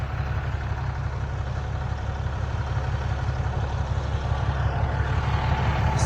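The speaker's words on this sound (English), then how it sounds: "It's the one tractor we got running right now." Tractor engine running steadily in deep snow at around zero degrees, a loud continuous low rumble and hum that stays even and close throughout, with no pauses.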